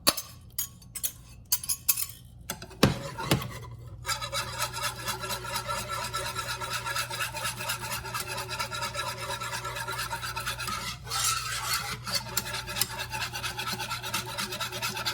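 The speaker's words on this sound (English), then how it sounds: "Okay, so now I'm going to add in the 2 cups of heavy cream. We're going to give that a nice little mix around too." Heavy cream being whisked in a pan for Alfredo sauce gives a steady, close scraping rasp with light metallic clinks, continuous for most of the stretch with no talking.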